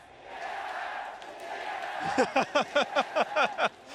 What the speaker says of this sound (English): the TSM chants out of the Chinese crowd